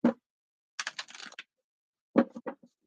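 A deck of cards is shuffled in three quick riffling bursts, quiet and close, with short pauses between and no talking.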